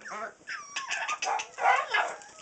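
A pet bird calls near the microphone with a run of bright, warbling chirps and squawks in quick bursts, loud and close, heard indoors alongside a puppy.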